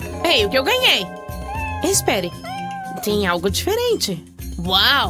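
A cat meows several times in quick succession, with drawn-out, rising and falling cries heard close by and mixed in with a person's animated talking.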